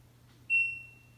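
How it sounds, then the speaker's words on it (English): An LG washing machine's end-of-cycle alarm being switched on gives one short, clear electronic beep, a bright pure tone that fades over about half a second above a low appliance hum. "So we're going to push and hold until we hear it beep."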